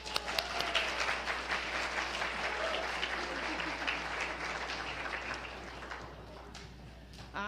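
An audience claps for a school mural team at a holiday pageant, a steady wash of applause that holds strong and tapers slightly toward the end, with a few sharper claps near the start.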